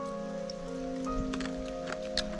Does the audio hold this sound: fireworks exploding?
no